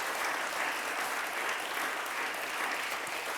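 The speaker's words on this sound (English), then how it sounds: "I would invite you to welcome Maddie with a round of applause" An audience claps steadily to welcome a speaker at a talk on Roma history, dense even applause from a full room lasting the whole stretch without pause.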